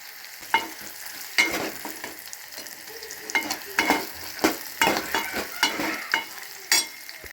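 Dry red chillies fry with onion and garlic in a pan for sambar, a soft continuous sizzle broken by repeated sharp scraping stirs of a spoon against the pan.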